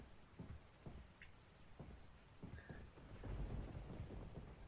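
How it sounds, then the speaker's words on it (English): Steady rain outside during a thunderstorm in Resident Evil 4, with soft distant thunder rumbling beneath the constant patter and swelling louder toward the end. "Sounds like there's a storm outside."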